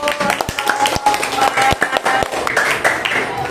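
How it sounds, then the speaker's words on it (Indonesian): A class claps in scattered, uneven bursts, with voices chattering underneath. "Berikan tepuk tangan dulu."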